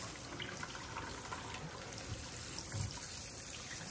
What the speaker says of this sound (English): And I continue to flush the rocks,